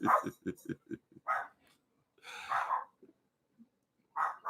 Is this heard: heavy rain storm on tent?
no